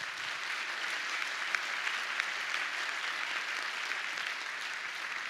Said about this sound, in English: How about another round of applause for the frontline workers at Mel Trotter Ministries?